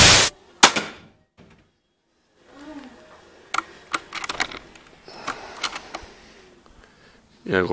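A Hatsan BT 65 Elite air rifle fires several sharp, close cracks at night, spaced seconds apart with quieter clicks and handling sounds between, while someone talks in places.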